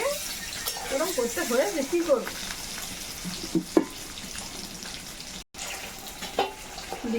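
Egg frying in hot oil over a clay stove, a crackling sizzle heard close with spatula scrapes while someone talks over it in bursts.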